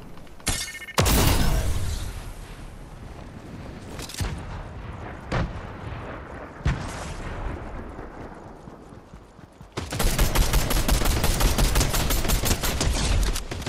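Gunfire in Fortnite: several sharp bursts of shots early on, then a sustained rapid stretch of firing near the end, loud and close with no talk.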